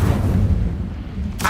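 Incendio fire spell cast in Hogwarts Legacy, a short booming burst of magical flame that swells and fades within about a second and a half, with no talk.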